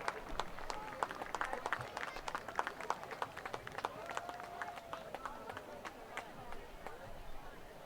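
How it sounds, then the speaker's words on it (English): Scattered clapping and cheering from a crowd in the stands at a high school football game, Plymouth South against Quincy, faint and distant with sharp individual claps over a murmur of voices. "A round of applause."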